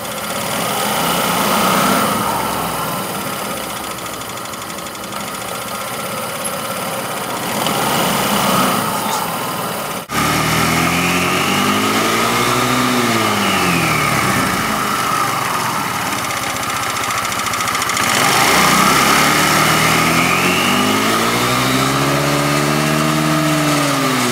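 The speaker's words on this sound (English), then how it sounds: "Let me turn the engine on again and show you." Small engine idles, then revs up and down in two rising-and-falling sweeps as a CVT centrifugal clutch engages the shell, loud and close with no talking.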